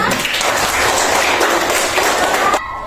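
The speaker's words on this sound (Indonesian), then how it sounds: "Oke, tepuk tangan dulu untuk kita." A classroom of pupils applauds in a coding and artificial intelligence lesson, a dense, steady wash of many hands clapping close by for nearly three seconds before it cuts off abruptly.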